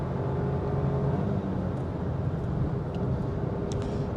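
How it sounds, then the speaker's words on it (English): Small manual-transmission car cruising on a European motorway, engine droning steadily under strong road and wind noise, faint and continuous with no clear rev change. "it's fun to wind down the engine"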